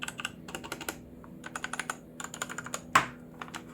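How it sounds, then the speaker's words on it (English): Typing on a HUO JI Z-88 budget mechanical gaming keyboard with brown switches and a metal base: quiet, close, irregular bursts of clacky keystrokes, with one louder thock near the end and no voices. "And this is how the brown switches sound."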